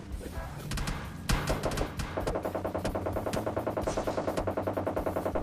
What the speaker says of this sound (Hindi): गोलियां पड़ती हैं मेरी गाड़ी पे और मैं समझ कर रहा इन गन शॉट से